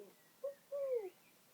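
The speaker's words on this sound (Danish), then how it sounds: "Kan du høre duen?" A dove coos faintly, giving a short note and then a longer, falling coo against a quiet background.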